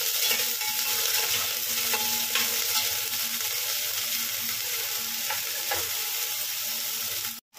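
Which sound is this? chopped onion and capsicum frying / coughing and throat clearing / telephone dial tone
chopped onion and capsicum frying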